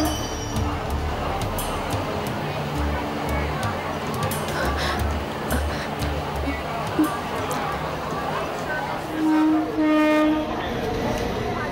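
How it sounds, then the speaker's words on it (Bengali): A Ladies Special local train rolls up to a station platform with a loud, rumbling clatter of wagons. A horn blast sounds near the end. A voice speaks over the noise. "চার্চ গেট যাওয়ার জন্য লেডিস স্পেশাল 4 নম্বর প্ল্যাটফর্মে আসছে।"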